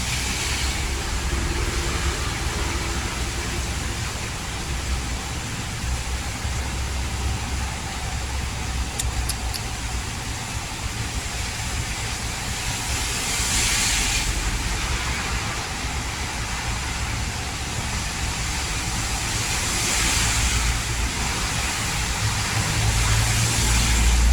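Strong wind drives through a rainstorm in Bangkok, a loud, continuous low roar over steady rain, rising in two broad gusts partway through and again toward the end.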